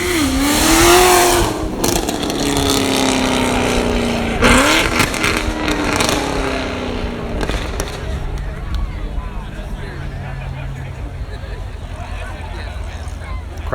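A 2019 Corvette at a rolling exhaust contest revs hard, its loud rising and falling exhaust roar repeating in bursts before easing into a lower idle, with an announcer talking over it.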